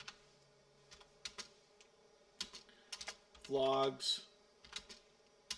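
Quick bursts of typing on a computer keyboard, close and fairly quiet, with a short spoken word partway through and soft clicks scattered around it.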